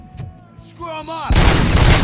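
Gunfire erupts in RoboCop: Rogue City: after a second of quieter game sound with a voice, a loud, dense burst of shots breaks in and keeps roaring to the end.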